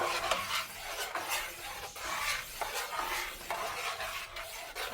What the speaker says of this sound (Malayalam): പിന്നെ ഇളക്കി കൊടുക്കണം